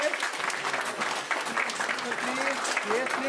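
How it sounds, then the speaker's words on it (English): Audience applause at a midterm conference of a postgraduate department, a steady, moderately distant wash of clapping throughout, with a voice speaking over it. "A round of applause."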